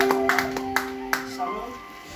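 A congregation applauds at a church wedding ceremony, with a few scattered claps ringing out under a sustained voice and a held musical tone.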